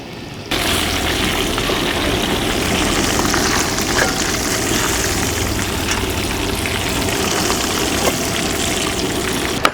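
Fish sizzles steadily in hot oil over a strong flame while being fried for fish biryani, a dense, continuous crackling hiss that stays loud and even from start to finish, with no one talking.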